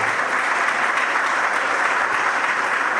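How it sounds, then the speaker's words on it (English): A gala audience applauds steadily, producing a dense, even wash of clapping that holds at a constant loudness for the full three seconds. "Round of applause for Dr. Farley."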